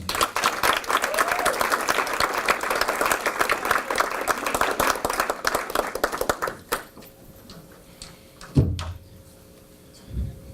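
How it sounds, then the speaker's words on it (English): Audience applauding to welcome a musician onto the stage at an art event, loud sustained clapping for about seven seconds that cuts off abruptly, followed by quieter stage noise and a thump. "I haven't even started playing yet, and you clap for me."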